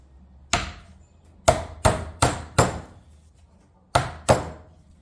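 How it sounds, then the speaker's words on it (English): Seven sharp, close hammer blows driving nails into salvaged wood flooring, struck in uneven bursts with short pauses between them and no talking. "So, time to hammer home."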